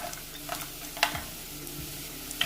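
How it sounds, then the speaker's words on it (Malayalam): Shallots and cashew nuts frying in oil in a pan for a Malabar egg snack, a steady soft sizzle with occasional stirring clinks and scrapes, close and moderately quiet, with no talking. "ഈ ചെറിയുള്ളി ഒന്ന് മൂപ്പിച്ചെടുക്കണം."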